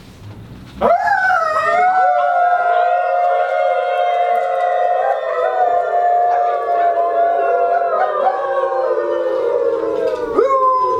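A long, loud canine howl starts abruptly and sustains for about ten seconds, wavering and slowly falling in pitch with layered harmonics and a brief swell near the end, heard alone.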